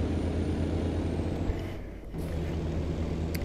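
A basic truck in American Truck Simulator, a continuous low diesel engine drone with a brief hiss of air brake release around the middle, close and steady.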